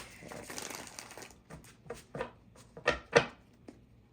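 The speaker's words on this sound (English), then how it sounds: "So let's go ahead and shuffle the cards." Tarot cards are shuffled close by, with papery riffles and soft slaps in quick bursts, ending in a few louder taps.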